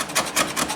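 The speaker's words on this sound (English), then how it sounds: "I'm going to have to be scraping this anyway to get that residue off" A tool scrapes old plastic on a 1985 Yamaha YTM 200e trike, making three or four rapid, close raspy strokes in quick succession.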